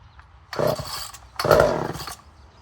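A Poulan 1800 chainsaw is pull-started in two close bursts, the small engine briefly popping over with a rough rasp each time before falling quiet, heard up close with no talk.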